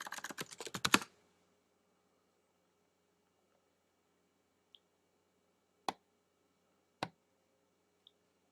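Quick burst of typing on a computer keyboard, about a second of rapid close keystrokes, followed by near silence broken by a few isolated clicks.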